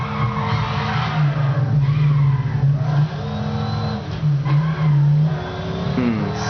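In the video game Midnight Club LA, a car engine drones loudly and steadily, rising and falling in pitch as the gears shift, with tire skids mixed in. No voices are heard.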